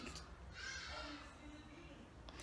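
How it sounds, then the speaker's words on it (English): Crows cawing outside, faint and somewhat distant, a few harsh calls over quiet outdoor background. "can you guys hear those birds"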